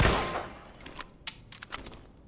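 Jill's Samurai Edge pistol being reloaded in Resident Evil 2: a fading shot tail, then a quick series of sharp metallic clicks and clacks as the magazine is swapped and the slide racked, close and fairly quiet.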